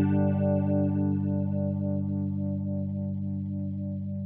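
A sustained distorted electric guitar chord through a phaser in the Blue Cat Audio Axiom 2 amp plugin, a steady tone with a slow sweeping ripple, fading gently over a few seconds, no talk.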